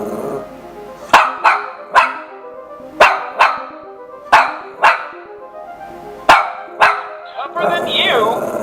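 A dog barks in sharp, separate bursts, roughly a dozen spaced irregularly over several seconds, loud and near, ending in a busier, noisier stretch.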